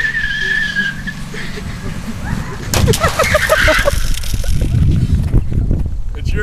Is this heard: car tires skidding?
yes